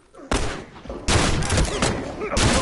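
Loud bursts of video game gunfire come in three sharp volleys, each starting abruptly and ringing on into the next, with no clear talk over them.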